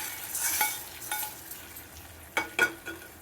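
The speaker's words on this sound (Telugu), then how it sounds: "దీంట్లో పోపు వేసేస్తున్నానండి" Tempering of spices with asafoetida poured into tomato rasam, giving a few sharp sizzling bursts near the end after a quieter stretch of faint stirring and pan noise.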